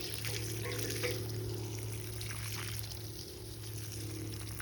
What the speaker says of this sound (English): So I have a watering can. I'm going to pour some water down